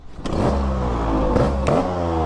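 A full-modified 1985 Yamaha RXZ two-stroke motorcycle engine revs hard and close, with several sharp throttle blips rising and falling over a rough, buzzing idle.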